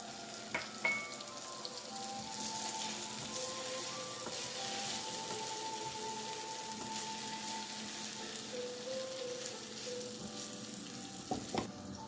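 Boiled peas are added to a hot pan for a grilled potato sandwich filling, producing a steady frying sizzle throughout, with a few clinks of a utensil and faint tonal hums in the background.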